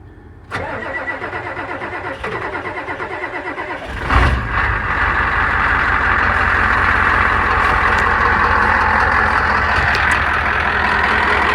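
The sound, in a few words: Ford F250 truck engine starting and running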